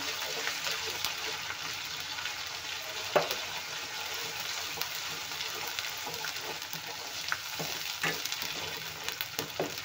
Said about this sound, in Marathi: पेस्ट पण तेलामध्ये भाजून घेऊया व्यवस्थित